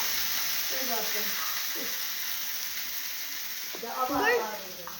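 Heavy oil frying on a griddle over a stove, a constant bright sizzling hiss, loud and close, with voices talking over it throughout.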